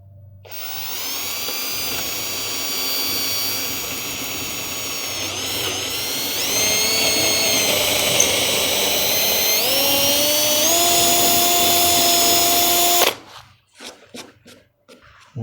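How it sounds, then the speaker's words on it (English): A power drill drilling through at a slight angle runs steadily at close range for about thirteen seconds, its whine shifting pitch as the load changes, then cuts out abruptly. "So I'm going to drill that through at a slight angle."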